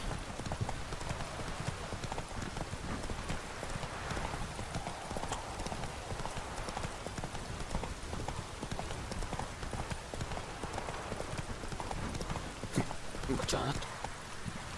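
Roach, a horse in The Witcher 3, galloping with a continuous fast patter of hooves, close and loud under a dense game soundscape, with someone talking over it.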